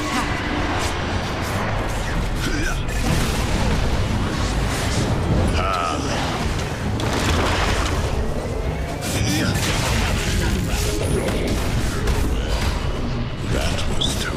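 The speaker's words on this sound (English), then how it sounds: "Radiant's bottom tower is under attack." Combat effects from a Dota 2 match as the Radiant bottom tower comes under attack: dense, continuous clashes, booms and crunching impacts at steady loudness, with commentators talking over the battle.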